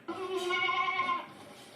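A single Saanen goat bleat, loud and close, a harmonic wavering call lasting about a second before it fades into quiet background.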